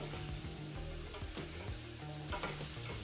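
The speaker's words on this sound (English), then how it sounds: "I'm gonna keep that pan on about a medium heat. That's gonna allow a nice slow caramelization of those potatoes" Potatoes caramelizing in a pan over medium heat give a steady close sizzle, with repeated scraping and clatter as they are stirred and tossed, and no talking.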